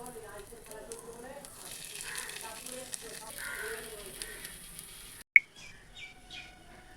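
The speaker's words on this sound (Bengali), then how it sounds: "সবগুলোকে আমি একদম লো ফ্লেমে উল্টিয়ে পাল্টিয়ে ভেজে নেব।" Bread rolls frying in a pan over a low flame, a steady soft sizzle running throughout, with faint bird chirps in the background and a sharp clatter near the end.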